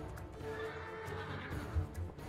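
A horse in the video game Two Worlds II whinnies loudly up close, with hoof clip-clops and faint game ambience around it.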